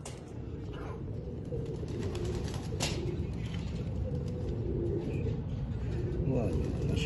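Cooing from Lakha pigeons of an Ustad's house breed, a steady low murmur running throughout alongside people talking.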